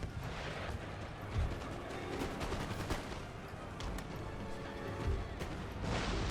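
Dense unit gunfire in a video game battle, continuous crackling volleys with scattered sharp reports and heavier booms, loud and unbroken throughout.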